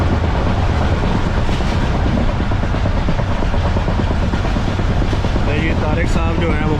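Jaffar Express passenger train running on rails in Balochistan toward Lodhran Junction, heard from inside as a loud continuous rumble with steady clickety-clack of wheels over rail joints throughout.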